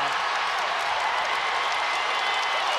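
A basketball crowd at Rupp Arena roars and applauds in reaction to a foul call, a loud, sustained wash of cheering and clapping without distinct pauses.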